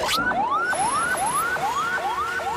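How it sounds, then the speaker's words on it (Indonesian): An ambulance siren wails in repeated rising sweeps behind a vehicle on the road, moderately distant and steady, over low traffic rumble with no talking. "di belakang sepertinya ada ambulan"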